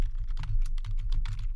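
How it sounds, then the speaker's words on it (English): A computer keyboard clatters under quick, steady keystrokes as text is typed, close and crisp with a regular rhythm of clicks, and no voice present. "we're going to type in click here to watch it"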